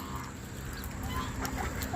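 Geese honk repeatedly amid a noisy outdoor background, several calls overlapping at moderate distance.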